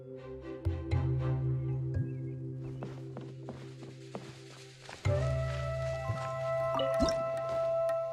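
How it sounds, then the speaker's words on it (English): Water droplets dripping from a wall in Genshin Impact, a series of soft, wet plinks spread across the stretch at an irregular pace, set against steady game music and ambience. "Wow, another water droplet just came out from the wall!"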